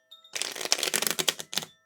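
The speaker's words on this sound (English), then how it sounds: "I feel like I can do one more shuffle here." Tarot cards being shuffled by hand, a quick burst of riffling crackles lasting over a second with a short final flutter, close and clear with no talking.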